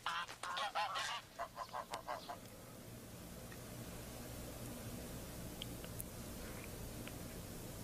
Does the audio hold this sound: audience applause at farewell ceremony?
no